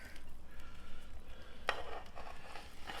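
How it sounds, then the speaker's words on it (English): Browned, sautéed zucchini squash tipped from a pan or plate into a mixture in a home kitchen, giving soft stirring and scraping clatter with a brief louder clink of utensil on dish midway. "now we're going to take the squash that we sauteed and browned and add it to this mixture"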